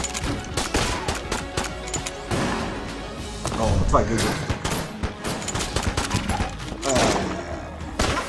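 Snipers fire in a video game, and the repeated shots and rapid bursts come loud and close. Bangs and thuds are scattered among them, while people talk excitedly over the gunfire.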